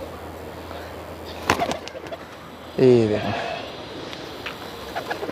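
Golden pigeons coo softly nearby, a short rolling call after a brief flutter, while someone speaks briefly over background noise.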